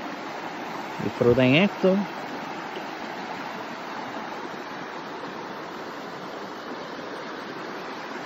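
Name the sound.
river stream flowing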